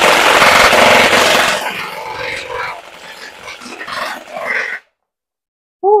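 A Bohan SLR V3 airsoft rifle with a MOSFET fires full auto at a cardboard target: a loud, rapid burst up close for about a second and a half, then quieter clattering handling noises and silence.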